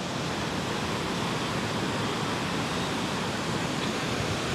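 Broad, steady rush of a mountain waterfall in Pahalgam, Kashmir, with water tumbling down a snowy slope; a dense, unbroken roar fills the whole clip with no voices.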